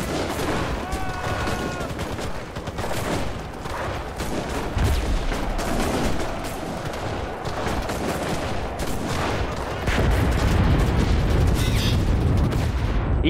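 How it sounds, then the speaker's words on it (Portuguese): Gunfire and heavy blasts from a combat video game, including a tank shot striking the player, dense and continuous throughout with a louder burst near the end; a voice talks intermittently over the battle. "tomei um tiro de tanque"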